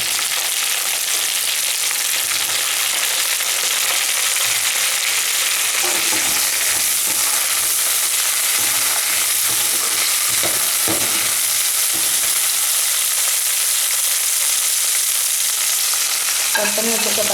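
Brinjal pieces fry and sizzle steadily in a hot pan for kara kuzhambu, with intermittent scraping and stirring strokes cutting through a continuous loud hiss of oil, no talking.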